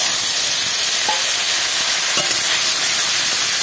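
Ginger, onion and garlic paste sizzles in hot oil with cardamom, cinnamon and cloves for a Bengali fish roe dish, a steady close hiss with two brief clinks of a spoon, no talk.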